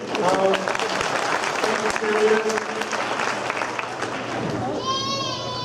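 Audience applause at a high school marching band show rattles along under lively chatter and children's voices, fairly close and steady.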